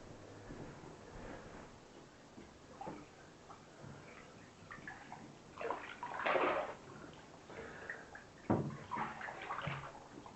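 Raw denim jeans on their first wash in six months are swished around in bathtub water, making soft sloshes and splashes that swell in a few bursts over faint background noise, with no talking.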